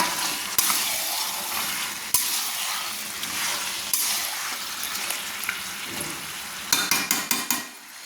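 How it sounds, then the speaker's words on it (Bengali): Fried potatoes stirred into chicken kosha in a pan, a steady loud sizzle with scraping spoon strokes and a few sharp clinks of utensil against metal near the end. "এবার আমি দিয়ে দিলাম ভেজে রাখা ভেজে রাখা আলুগুলো দিয়ে ভালো করে নেড়ে নিচ্ছি"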